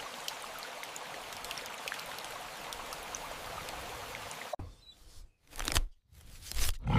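Steady rain falls in a riverside char village, a dense even hiss that stops abruptly after about four and a half seconds, followed by several loud rustling bursts close by.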